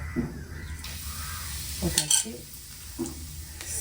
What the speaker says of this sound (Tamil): எண்ணெய் நல்லா காஞ்சிச்சு எண்ணெயில் பார்த்தீங்கன்னா வந்து நான் வந்து பெருஞ்சீரகம் போடுறேன்